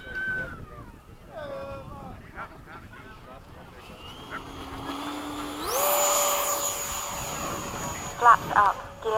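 FMS 80mm Hawk RC model jet doing a touch and go, its ducted-fan whine rising in pitch and growing louder as it passes near, with people talking over it.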